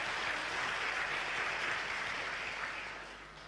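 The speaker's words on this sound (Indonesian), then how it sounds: "Tepuk tangan buat Tuhan." Church congregation applause for God after a call to repentance, a dense steady wash of many hands clapping that holds strong and then fades toward the end, with no voices over it.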